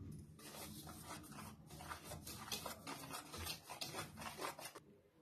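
Wheat flour, rice flour and semolina stirred together in a bowl for tomato wheat dosa batter, a soft continuous rubbing and rasping scrape in repeated strokes, close and quiet with no talking.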